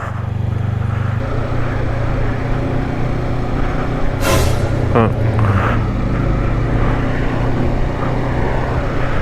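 An inline-four motorcycle sweeps past on a road with a brief rising and falling engine whine, heard over the constant wind rush and engine drone of the rider's own bike.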